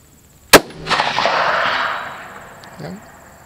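A single sharp, loud 6.5 Creedmoor Ruger Predator rifle shot fired through grass outdoors, followed by a long rolling echo that slowly fades, with a faint distant impact sound afterward.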